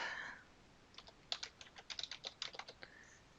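Quick bursts of keystrokes on a computer keyboard, ending with a press of the space bar, close and quiet against a faint background.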